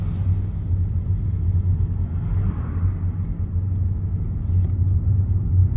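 A car engine rumbling steadily while driving on the road during a driving lesson, a close, even low drone with road noise and no talk.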